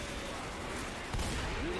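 Gunfire in a shooter video game: dense, continuous rattling shots fill the whole short stretch, loud and close, with a heavier burst near the end.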